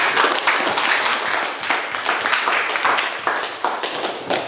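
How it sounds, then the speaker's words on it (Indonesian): Classroom applause from a group of students, a dense, fairly loud patter of many hands clapping steadily throughout with no talking. "Oke, tepuk tangan."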